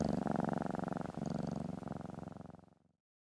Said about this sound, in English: When a cat purrs, it's a sign of comfort and contentment.